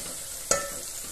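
Vegetable pieces fry in hot oil with a steady, even sizzle, broken once near the middle by a brief, sharp clink of a utensil. No one speaks.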